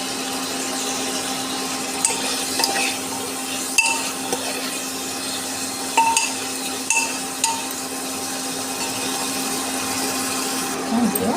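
Dry coconut frying in a pan, a steady broadband hiss and crackle with a few scattered scrapes and clinks as it is turned, no voice over it.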